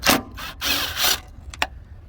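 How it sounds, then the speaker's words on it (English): Ratchet working loose 10mm headlight bolts on a car, a few bursts of dry clicking with short pauses between them, close and fairly loud, then two quick sharp ticks. "So let's get those 10mm bolts off now."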